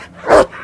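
A single loud dog bark rings out in a scene from the film The Northman, a sharp burst in the middle of a short stretch with a faint background before and after.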